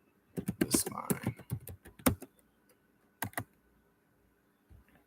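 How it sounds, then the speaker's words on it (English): Someone types on a computer keyboard in quick bursts of clicking keystrokes, close and distinct, with a few pauses and a final stray tap near the end; no speech is heard. "Screenshot the things I'm typing, y'all."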